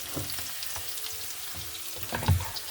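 Onions frying in a pan, making a soft continuous sizzle with occasional stirring clatter, heard close and without talk.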